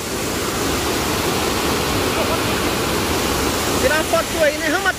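Water rushes from a burst dam in a dense, steady roar like a waterfall, loud and close throughout. A voice surfaces briefly near the end.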